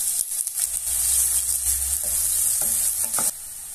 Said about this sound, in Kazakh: Кейін қызып тұрған табаға пиязды салып 1-2 минут қуыратын боламын.